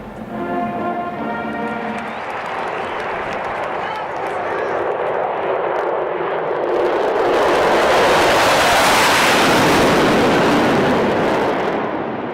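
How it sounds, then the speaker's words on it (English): Two F-18 fighter jets pass low over a football stadium in Atlanta, a broad roar swelling to a loud, rushing peak and holding, with a voice talking over the start. "These two F-18s flying too low over a football game in Atlanta."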